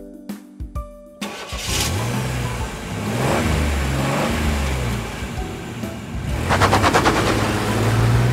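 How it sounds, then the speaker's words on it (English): A car transporter truck's engine starts after a few sharp clicks, then runs and revs with rising and falling pitch, loud and close, with a burst of rapid rattling toward the end. "Car transporter truck."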